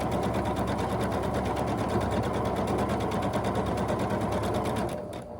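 A sewing machine stitches a quarter-inch quilt block seam in a fast, steady, even rhythm of needle strokes for several seconds. It then slows and stops near the end.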